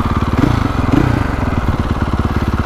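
A 2024.5 KTM 450 Factory Edition dirt bike engine runs loud and close offroad, its rapid firing pulses rising and falling as the throttle is worked, with no talk over it.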